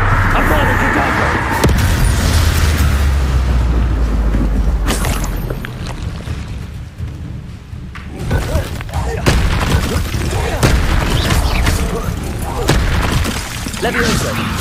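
Spell blasts such as Bombarda and Confringo in the Hogwarts Legacy video game hit with heavy booms and crackling bursts, loud and repeated amid dense, continuous combat noise.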